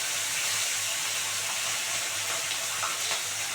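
Oil heating in a hot kadai while frying kei fish for a curry: a steady, even sizzling hiss that holds at a constant level throughout, with no talk over it.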